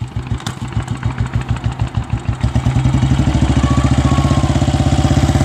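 A Bullet motorcycle engine catches after a kick start, first with slow, uneven thumps and then settling into a loud, fast, steady idle with a deep, regular beat.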